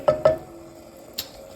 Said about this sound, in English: I'm just going to stir to make sure that that jam is